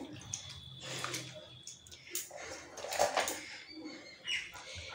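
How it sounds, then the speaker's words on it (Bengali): Boiled banana flower is swished and rinsed by hand in a bowl of water, producing close, gentle splashing and dripping sounds with soft sloshes, fairly quiet. "এই জলে ধুয়ে নেব ভালো করে সিদ্ধ মোচাটাকে"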